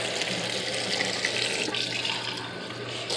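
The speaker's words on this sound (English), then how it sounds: "If you fill a cup like this up with some water," Tap water pouring steadily into a cup at a kitchen sink, a continuous close splashing rush lasting the whole moment with no talking over it.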